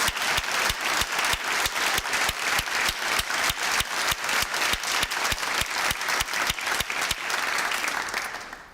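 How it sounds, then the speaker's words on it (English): An audience at a master's graduation ceremony claps in a strong, steady, rhythmic applause that lasts several seconds before fading out. "could I maybe use this opportunity to ask you for a big applause for them"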